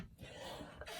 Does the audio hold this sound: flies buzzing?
no